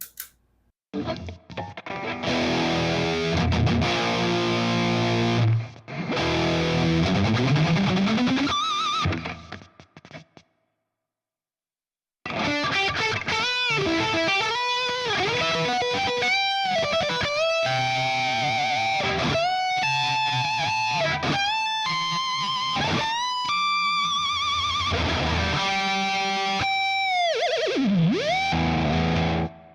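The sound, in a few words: high-gain punchy electric guitar amp tone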